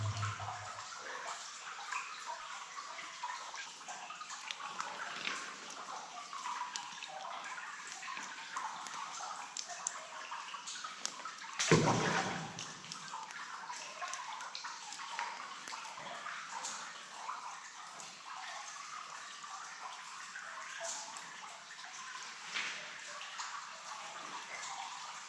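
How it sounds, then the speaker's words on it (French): A small underground stream flows through a cave inside a volcano, a steady close trickle and gurgle that runs on throughout, with one brief louder splash or knock partway through. "on arrive à petit ruisseau souterrain"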